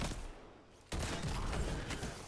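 Tracer rounds fired in Destiny 2 set off a sudden burst of rapid shots just under a second in, following a quieter stretch. The firing keeps rattling at moderate level until the end.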